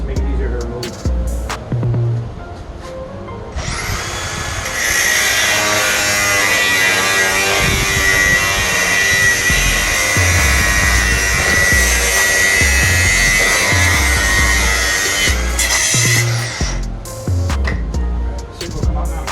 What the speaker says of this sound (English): I'm gonna cut the nub off the bolt to make it easier to remove.